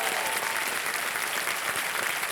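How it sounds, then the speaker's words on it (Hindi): A studio audience on the KBC game show gives dense, steady applause that fills the whole moment evenly, with no pause and no talking over it. "तालियां बज जाएं इनके लिए।"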